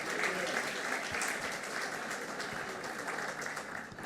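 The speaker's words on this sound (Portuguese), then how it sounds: "Uma salva de palmas a Jesus." Church congregation applauding together in a sustained burst of clapping, fairly even in level throughout, with a voice faintly audible beneath the applause.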